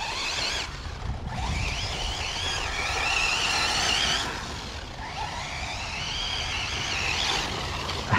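A V5 Arrma Typhon 6s RC car running 300k diff fluid drives under throttle. Its motor gives off a continuous high electric whine that rises and falls as the throttle is worked, with steady rumble beneath and no talking.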